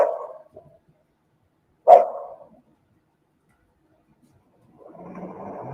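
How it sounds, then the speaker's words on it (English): A dog barks outdoors, caught on a home surveillance recording: a short bark, a louder single bark a moment later, then quiet before a softer rustling sound. "And then he barks"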